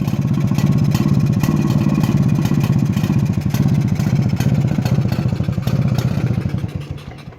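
A 1953 Jawa Perak 250 type 11 motorcycle engine idles close by with a steady, rapid thumping beat, loud and even, then slows and fades as it dies away at the end.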